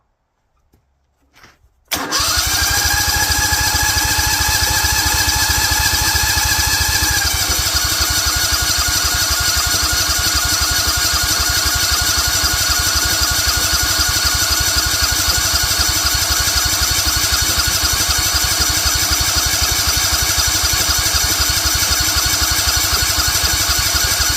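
A Duromax XP23HPE 713cc generator engine with an upgraded carburetor jet is cranked with a brief stutter, then catches and settles into a loud, steady running drone close by, its pitch shifting slightly after a few seconds.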